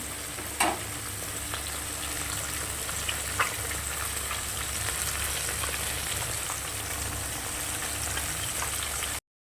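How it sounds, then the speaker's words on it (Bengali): Puti fish frying in hot oil in a kadai with eggplant nearby, a steady close sizzle throughout with a couple of sharp spatter pops near the start and no voices. "মাছটা একটু কড়া কড়া করে ভেজে নেব, একটু লাল লাল করে ভাজবো।"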